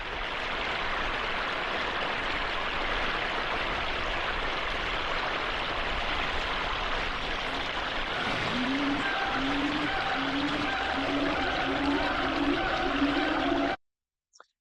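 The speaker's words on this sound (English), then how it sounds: "if you ask the system to generate the soundscape of a waterfall in Thailand" Synthesized soundscape of a waterfall in Thailand: a steady, dense rush of falling water fills the whole span, with a faint tonal call-like pattern rising in the middle and end before it cuts off abruptly.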